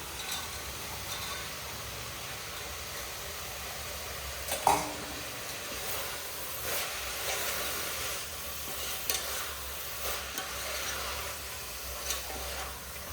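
Field beans (avarekalu) dropped into a hot pan for uppittu and sizzling, a steady soft frying hiss with occasional stirring clicks and one sharper clink near the middle, close and fairly quiet.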